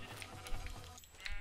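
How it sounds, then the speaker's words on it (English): A Minecraft sheep, pink in color, bleats in the video game, its wavering cries heard faintly at close range over a low, steady background. "Ooh, pink sheep!"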